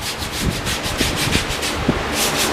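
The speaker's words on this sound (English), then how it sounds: "So now I'll skip to the hard bristle brush and get the tires clean." Hard bristle brush scrubbing a car tire, a rapid run of coarse rasping back-and-forth strokes, close and steady with no talking.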